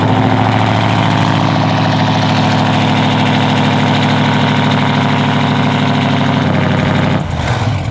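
A truck built as an SS clone idles with a loud aftermarket exhaust. A deep, throbbing rumble sits close and steady for about seven seconds, then shifts and drops off near the end.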